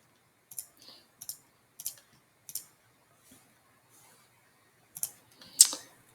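Crisp, close computer mouse clicks come singly and in quick pairs, spaced at irregular intervals against near silence, with a slightly louder cluster at the end.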